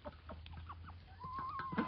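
Chickens at a summer farmyard feeding spot give a few soft, close clucks and short calls, faint and scattered, over a low steady hum, with one longer drawn-out call near the end.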